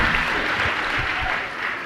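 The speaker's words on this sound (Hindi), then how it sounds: "बजाओ जोर से ताली।" An audience at a Jain religious question-and-answer discourse claps loudly in a dense, steady burst of applause, close and continuous for about two seconds.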